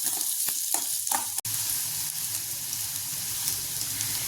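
Small onions, or shallots, fry in oil, making a steady crackling sizzle close by, with a few soft stirring knocks and a sharp click early on, and no one speaking.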